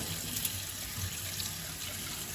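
Cold tap water runs steadily over a raw pork belly as salt is rinsed off, a soft continuous splash and trickle in a kitchen sink, fairly faint and with no voices.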